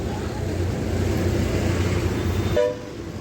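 A TSRTC city bus rolls through Hyderabad, a steady low engine and road rumble from inside the moving vehicle, with a short horn-like toot near the end as the rumble drops.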